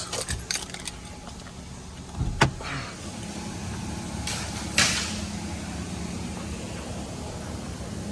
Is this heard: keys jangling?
yes